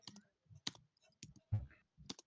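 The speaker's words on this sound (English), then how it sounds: "I can hear you typing." Someone types on a computer keyboard, sharp isolated clicks and short bursts of keystrokes, faint and close, with gaps of silence between them.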